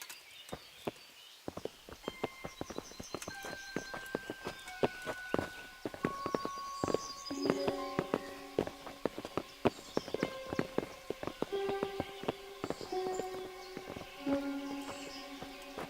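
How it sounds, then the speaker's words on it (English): Horses in the medieval video game Kingdom Come: Deliverance clip-clop in a busy stream of hoofbeats, close and fairly loud, layered over sustained musical tones, with no talk. "Bring the horses."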